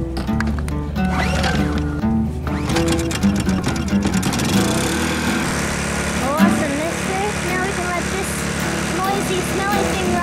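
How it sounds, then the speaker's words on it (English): A small portable generator drones on a sailboat in Indonesia, a steady buzzing engine hum running throughout beneath talking voices and some background music. "How many liters does this little generator take?"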